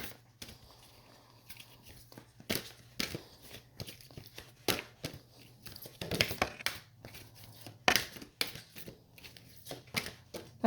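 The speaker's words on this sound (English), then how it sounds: "now I'm going to shuffle from this deck" Repeated papery riffles and snaps of tarot cards being shuffled, irregular bursts close up over a faint steady hum.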